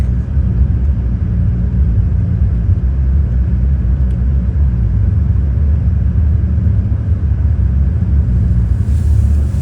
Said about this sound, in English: the noise that my car tires are making